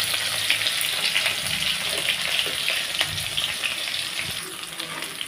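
Whole cumin seeds crackle in hot oil with crushed chili and garlic, a loud, steady close sizzle with faint scattered pops and light stirring, no voices over it.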